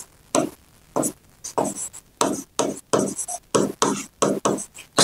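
Marker or chalk writing on a board during a Sanskrit lesson, a series of short scratchy strokes in a steady rhythm, close and clear with no talk over it.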